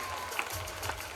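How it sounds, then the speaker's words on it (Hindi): Brief burst of audience applause under a festive tent at a high school's golden jubilee celebration in Bhiwandi, a soft, distant patter of clapping with faint crowd noise. "जोरदार तालियां साहब उनका इस्तकबाल करें।"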